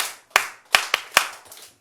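A church congregation claps in unison, making five sharp group claps at uneven spacing with quiet gaps between them and no talking.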